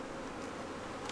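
Honeybees at a strong, crowded hive colony make a dense, steady buzz, close and continuous, with no voices.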